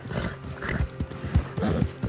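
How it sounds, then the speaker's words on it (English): Horse hooves clop in an uneven rhythm in Red Dead Redemption 2, with a brief whinny mixed in, fairly close and moderately loud. "Arthur, get that horse out of here."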